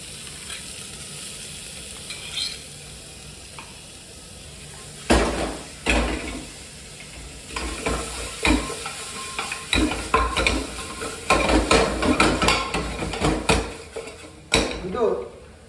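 Onions hit hot garam masala spices in a pan and start frying, with a soft sizzle under a spoon scraping and stirring against the metal and scattered clattering of utensils, quiet at first, then busier and louder.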